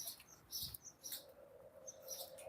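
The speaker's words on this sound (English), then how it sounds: "They're cute, the birds." Birds chirp outdoors on a college campus, faint bright tweets repeating over a low background hum.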